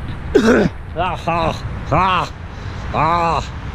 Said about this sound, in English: Clear your throat before you start talking.